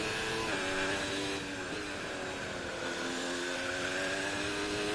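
An F2 race car engine in the F1 2018 game at Bahrain revs high with a thin, whining note, pitch rising and dipping across quick gear changes under a broad steady hiss.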